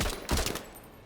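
A short, heavy burst of gunfire in the video game MENACE, a couple of loud thumping shots in quick succession that fade into a low rumble.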